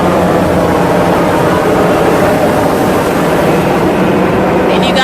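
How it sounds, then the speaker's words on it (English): Military airplanes passing over a beach, a loud broad engine roar that holds steady for the whole stretch, with people talking under it. "you got me worried because the military planes are out"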